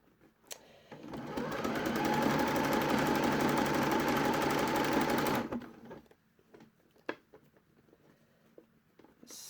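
A sewing machine stitches seams on a jersey raglan top in one loud, fast, continuous run of a few seconds, then stops, followed by quiet handling clicks and fabric rustles.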